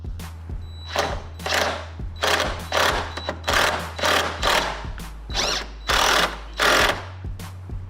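Ratchet socket wrench tightening a bolt with a washer in a garage, giving a rapid series of loud, close clicking bursts in a steady rhythm over a constant low hum, with no talk.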